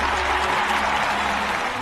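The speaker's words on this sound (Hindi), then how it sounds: "ताली बजाओ ताली" Audience applause, a steady dense wash of clapping heard alone and at moderate level, holding evenly without a break for the whole stretch.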